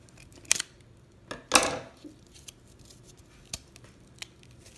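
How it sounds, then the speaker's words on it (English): Scissors cutting packaging tape on a mail parcel, a few sharp snips and one longer crunching cut close by, separated by quiet pauses with faint clicks. "Well, the scissors are working."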